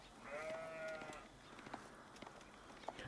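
Sheep bleating in the strategy game Age of Empires 4: a single drawn-out bleat near the start, followed by faint clicks and soft game sounds in the background.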